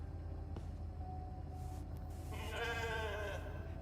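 Sheep in the video game The Alters giving a short bleat in its second half, above a constant low mechanical hum with a faint tick or two earlier, the animal sounding close and clear.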